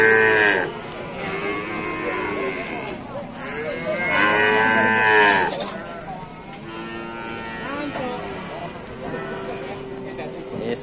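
Cattle moo repeatedly at close range, long drawn-out calls rising and falling several times, with people talking faintly in the background.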